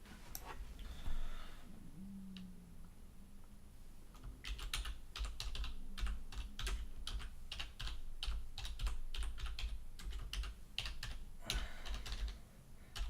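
Computer keyboard typing while entering a blog name, a close, fast run of crisp key clicks that keeps going for most of the clip, with a few short pauses between bursts.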